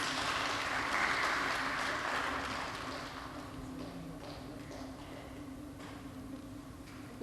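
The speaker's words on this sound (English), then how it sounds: "So I want you to give a clap to every woman in your life." Applause from an audience at an ECOWAS Parliament event for International Women's Day rises at the start, then fades into a thinner patter of scattered claps.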